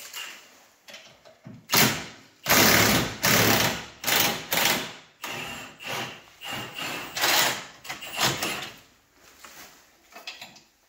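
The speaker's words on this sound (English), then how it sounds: "I'm just trying to loosen the bolt first before I use the impact on the other side" Repeated grinding, rubbing knocks come from wrenching at a mud-caked bolt on a RZR side-by-side radius rod, a series of loud mechanical bursts separated by short pauses, close up.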